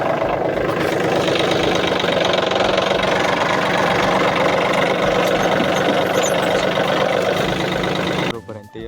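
A tractor engine idles with a steady, knocking chug while harvested pomegranates are loaded into it on a hot day, the running engine filling the clip before cutting off abruptly near the end.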